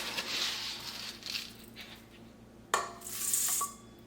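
Two cups of rolled oats poured into a mixing bowl, a soft dry rustling hiss with a sharper rattling burst near the end, close and fairly quiet with no talking.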